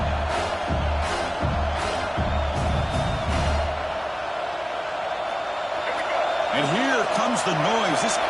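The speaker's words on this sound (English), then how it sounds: "This crowd is trying to inspire this defense to make a big red zone stop." A steady roar of stadium crowd noise in the football video game College Football 26 fills the background while a commentator-style voice talks over it.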